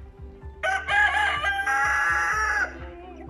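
A green-legged hen crows loudly over a steady background of rhythmic clucking from green-legged hens and soft mechanical thumps.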